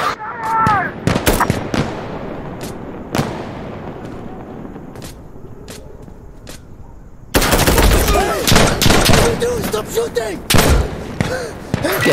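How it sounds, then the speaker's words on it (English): Gunfire in the video game Insurgency: Sandstorm, with sharp repeated shots, bursts and booms cracking loudly around the player, heaviest in a dense volley late on, while voices talk throughout. "We're getting shot at. You see those bullets?"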